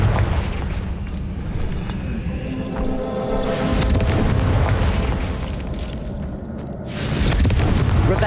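Booming blasts of the Confringo spell in Hogwarts Legacy, two heavy explosions a few seconds apart over a continuous game ambience.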